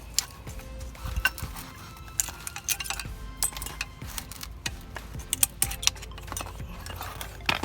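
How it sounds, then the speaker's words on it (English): Brake hardware is being removed from a caliper bracket on a Cadillac CTS, close metallic clicks, taps and small clinks of clips and parts coming off in an irregular sequence. "let's take the hardware off"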